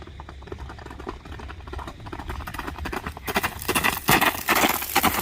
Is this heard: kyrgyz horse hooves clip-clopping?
yes